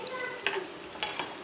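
Garlic frying in a pan for a masoor dal tadka, a close, steady sizzle broken by two or three quick scraping strokes of a spoon.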